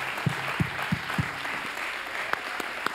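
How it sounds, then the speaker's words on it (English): Conference attendees give a round of applause for the planning committee, a fairly light, moderate clapping spread through the room with a few sharper individual claps standing out, no voices over it. "So if we could just give them a round of applause right now."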